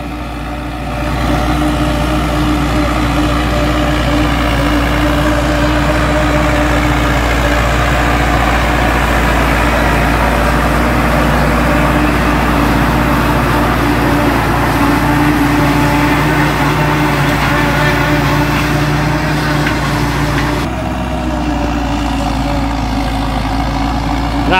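A Valtra A74S tractor runs steadily while packing corn silage, its diesel engine droning loud and close with a constant low rumble throughout, no breaks or speech.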